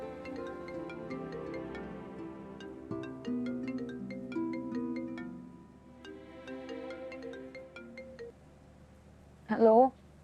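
Phone ringtone during a call in a drama scene, a melodic electronic tone playing under a soft music bed with background talk, followed by a short louder burst near the end.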